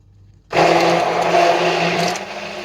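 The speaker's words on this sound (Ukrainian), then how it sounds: "Я краще ось взяла блендер." A hand blender starts abruptly and runs with a loud, steady whirring buzz for about two seconds, close by, whipping a dessert mixture.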